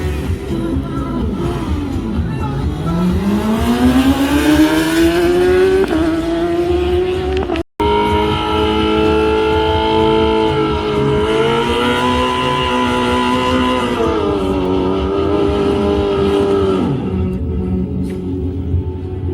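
A racing motorcycle accelerates hard during a drag race at Poprad airport, its loud engine note climbing through the gears in one sustained run, with a brief cut midway.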